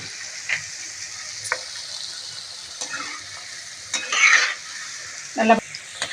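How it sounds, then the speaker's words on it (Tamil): Small chapati pieces deep-fry in hot oil with a soft, continuous bubbling hiss, broken by occasional louder crackles and the clink of a ladle moving them around, close and without talk. "எண்ணெயில் போட்டு பூரி மாதிரி உப்பி வரும் பாருங்கள்"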